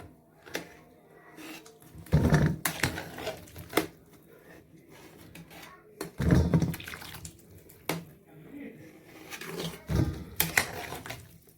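Pickled lemons strained of their water, with splashing and dripping pours in several bursts, separated by quieter moments of handling in a kitchen.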